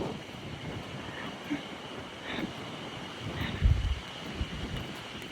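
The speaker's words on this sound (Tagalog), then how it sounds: "Ang lakas ng hangin." Strong wind gusts across the Tsutsuji suspension bridge in Nikko National Park, a continuous rushing roar buffeting the microphone, with heavier low thumps of wind noise swelling toward the end.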